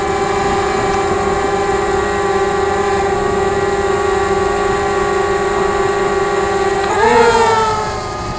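A DJI Spark drone on stock propellers buzzes loudly and steadily at close range, its whine rising in pitch and swelling as it lifts off near the end.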